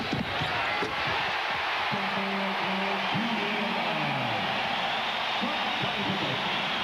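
At a 1996 USA vs Australian Boomers basketball game, an arena crowd cheers in a steady, broad roar. A commentator talks over it throughout.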